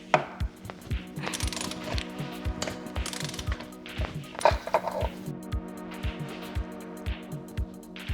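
A rear wheel being removed from a track motorcycle with a ratchet, giving a close, rhythmic series of clicking pawl strokes and some metallic clanks, with no talking.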